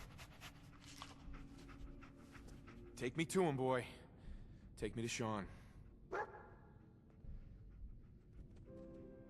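Dogmeat, the dog companion in the video game Fallout 4, pants and lets out a few short barks and yips between lines of speech, against a quiet in-game ambience.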